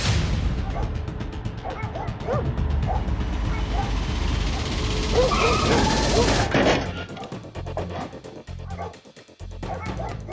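Dogs bark near a house as a delivery truck rolls away with no one driving and nobody in park, repeated close barks over outdoor noise, then a different rough rumbling section after about six seconds.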